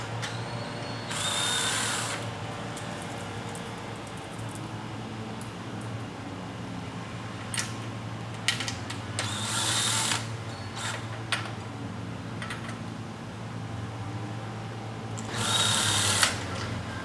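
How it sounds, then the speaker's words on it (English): Power drill driving 3/4 inch screws into storm bar clips on colonial shutters: three whirring bursts separated by a constant motor hum and scattered clicks of handling, with no talking. "We're going to go ahead and use these 3/4 inch screws and tighten them down in place."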